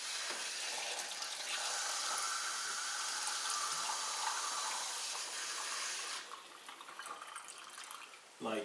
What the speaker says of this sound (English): I'm just going to top this up with some water.